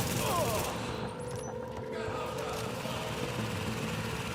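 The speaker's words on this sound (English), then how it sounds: "it's two turrets shooting at each other" Rapid automatic gunfire from two turrets trading shots in The Division, a dense continuous rattle of bursts that carries steadily through the whole stretch with faint voice activity underneath.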